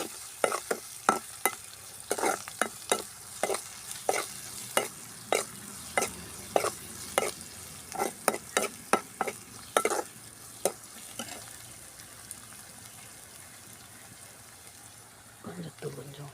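Finely chopped vegetables sautéing in a pan, with a steady sizzle under a brisk run of sharp stirring taps and scrapes that thin out toward the end, and a few quiet voice sounds.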